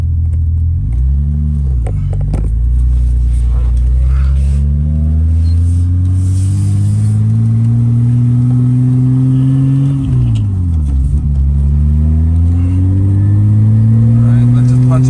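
A BMW 325i engine idles steadily with a deep, close hum, then revs up twice. Each rev sweeps the pitch up and back down, and the engine stays loud and continuous throughout.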